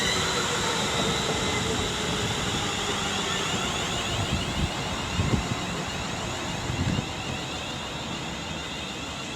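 Class 350 electric train arriving at Lichfield Trent Valley station, a loud broad rumbling roar with steady high whine tones throughout, close and continuous with no talk.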